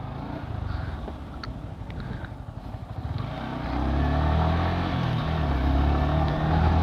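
A new Yamaha R15 V4 motorcycle ridden along a hill road: steady engine drone and wind rush, rising louder and fuller as it accelerates partway through.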